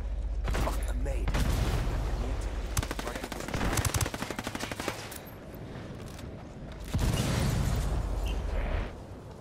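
Sustained automatic gunfire in Ghost Recon Wildlands rattles in long, loud bursts with booming shots between them, forming a dense firefight that continues almost without pause.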